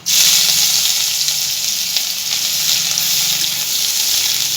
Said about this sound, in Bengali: এগুলোকে একটু ভেজে নিই দিয়ে দিচ্ছি গ্রেট করে রাখা আদা